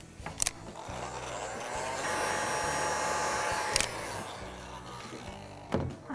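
A hair dryer blows steadily over a freshly painted chocolate box, a close, even whooshing hum that holds for several seconds, with a few sharp knocks and clicks at the start and near the end.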